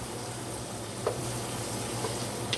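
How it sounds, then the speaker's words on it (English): Vegetables sauteing in a pot, a steady soft sizzle and crackle running throughout, with a few faint clinks from stirring now and then. "right now I'm going to still let them saute a little bit more"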